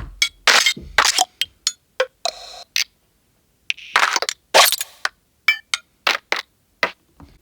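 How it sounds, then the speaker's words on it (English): Sharp electronic percussion bursts from a Eurorack modular synth, clicky and cracking, scattered in irregular clusters with short silences between, sounding like two overlapping rhythms. "a burst of percussion sounds with two separate rhythms"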